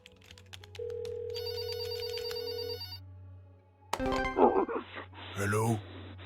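An electronic telephone ring in a video game, a sustained trilling tone followed by clicks and another ringing burst, with voices talking over parts of it.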